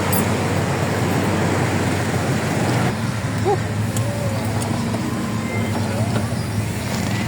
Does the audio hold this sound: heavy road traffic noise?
yes